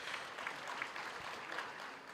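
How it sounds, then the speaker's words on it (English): Applause from the audience at a university graduation ceremony, a broad, even patter of many hands clapping heard from a distance, fairly quiet but steady throughout. "let's give them a round of applause"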